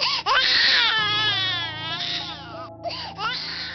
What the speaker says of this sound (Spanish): El llanto del bebé se seguía escuchando.